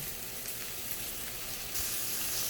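A filet steak sizzles steadily in a pan on an electric stove, a continuous close hiss with a slight lift in loudness near the end, no voices.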